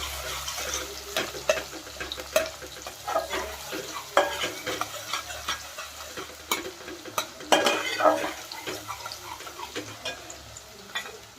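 Chopped onions fry in hot oil for a fish curry, a steady crackling sizzle broken by frequent scrapes and clinks of a stirring spoon against the pan, close and fairly loud, with no voices.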